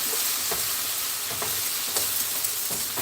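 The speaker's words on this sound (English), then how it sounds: "you can hear it sizzling on the bottom of the pan" Food sizzles steadily in a frying pan during a home-cooked Mother's Day meal, a constant bright crackle with occasional louder spits as it is stirred and moved around, close and with no one talking.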